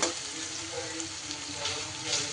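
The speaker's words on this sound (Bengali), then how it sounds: "একটু এইভাবে পেঁয়াজটা ভাজা ভাজা হয়ে গেলে" Onions fry in hot oil with a steady, dense sizzle that stays close and fairly loud throughout, with light stirring and no talking.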